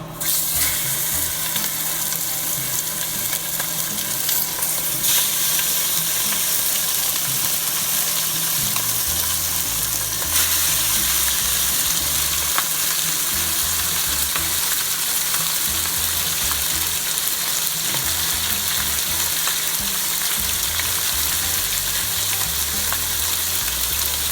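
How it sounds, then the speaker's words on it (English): Meat browns in a hot pan for green chile, a loud, steady sizzle and hiss close by with occasional scraping stirs and crackles over the whole stretch. "Now we're going to brown the meat. Just stir it around, get it all leveled out."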